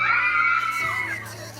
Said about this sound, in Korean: 결제가 완료되는 찰나 터져나오는 이 비명과 환호는